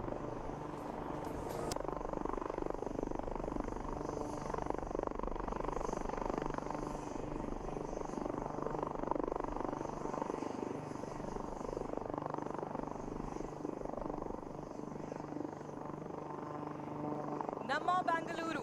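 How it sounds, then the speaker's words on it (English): Sarang team helicopters in a flying display at the Aero India air show in Bengaluru give a steady, loud rotor and engine drone that runs the whole way, with crowd or announcer sound mixed underneath. "After that scintillating display by the Sarang helicopter display team"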